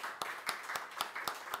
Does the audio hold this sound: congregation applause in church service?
yes